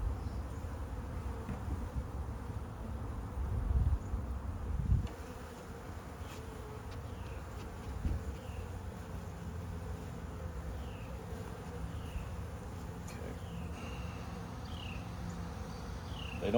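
Honey bees buzzing at a hive during a split, with a steady, close swarm hum and individual bees zipping past, plus a few soft bumps and handling noises.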